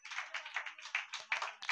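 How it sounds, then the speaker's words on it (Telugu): An audience claps in uneven bursts at a religious gathering, the rhythmic rounds fairly faint and slightly distant, with no talking over them. "గట్టిగా చప్పట్లు కొట్టండి."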